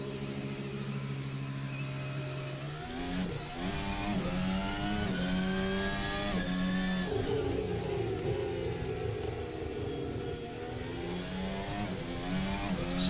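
Formula 1 car engine in a racing video game, a loud continuous high-pitched whine rising and falling through gear shifts and revs, steady throughout with no talking.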